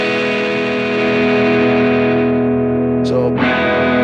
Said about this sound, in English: I'll play, let's do distortion, turn the gain way up